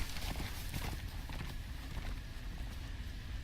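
Horse hooves clip-clop on the ground in a Game of Thrones video game, a quiet, steady run of quick hoof beats over broad background noise, with no talking.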